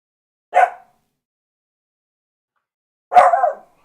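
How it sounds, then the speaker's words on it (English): Two separate barks from a dog, the first short and the second longer and rougher, spaced about two and a half seconds apart in near silence with no talk. "Stupid dog."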